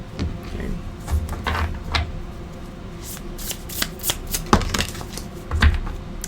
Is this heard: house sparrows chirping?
no